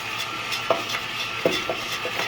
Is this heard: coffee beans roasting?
yes